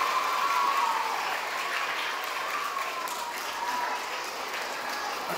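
Dense, continuous clapping from many schoolchildren honoring their teachers at a Teachers' Day school event, steady and fairly loud, easing slightly toward the end.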